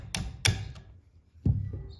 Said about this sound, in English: Just hit it with the hammer and see if it'll pop out of that ring this way maybe.